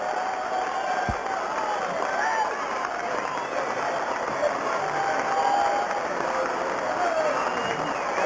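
A darts crowd at the 1996 World Championship semi-final applauds and cheers after the win, a steady wash of clapping and whoops filling the hall under a commentator's voice.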